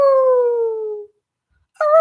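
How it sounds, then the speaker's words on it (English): A dog gives one long, anguished howl that slowly falls in pitch and fades out over about a second, followed by a short pause and then the start of a second howl. "From far behind, he heard Lucy's anguished howl."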